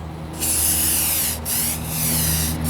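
A light tack coat of primer hisses from a spray can onto a 1998 Ford Ranger wheel arch repair outdoors, three close, loud bursts separated by brief gaps.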